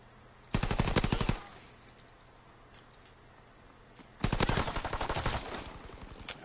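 Machine pistol fire in Call of Duty: WW2 multiplayer, two loud rapid bursts of fully automatic shots about three seconds apart, the second burst longer, with quiet game ambience between them.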